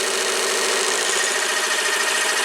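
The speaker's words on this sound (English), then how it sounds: "We start cutting and you're going to hear some bumping. That bumping is because that piece has some air gaps in it," A lathe spins at about 14,000 RPM, cutting the upper support piece for a downhole pump whose metal has air gaps. It gives a steady, loud, dense mechanical whir with a faint uneven rumble, and no talk.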